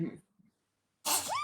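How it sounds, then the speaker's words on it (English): A single sharp human sneeze bursts out loudly and close, after a brief moment of quiet following a few soft words. "I'm gonna sneeze."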